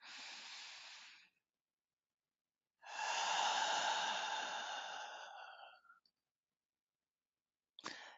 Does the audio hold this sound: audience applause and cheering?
no